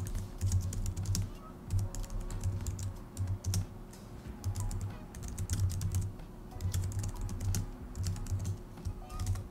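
Continuous typing of code on a computer keyboard, steady clusters of close, crisp key clicks with short pauses, no talking over it, with a faint low hum underneath.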